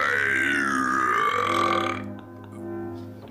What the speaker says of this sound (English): Did you just burp into the blindfold?